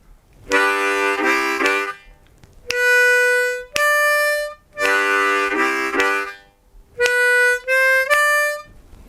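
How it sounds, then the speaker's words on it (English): Blues harmonica phrases played slowly in short bursts, alternating thick chordal chugs with cleaner single bent notes, repeated twice with brief gaps, no voices. "let's try that together nice and slowly with the chugging"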